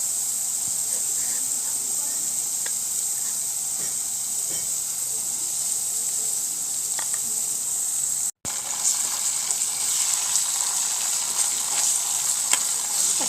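Ginger garlic paste frying in a pan while meat cooks, a steady loud sizzle and hiss with faint stirring clicks throughout and a brief dropout partway.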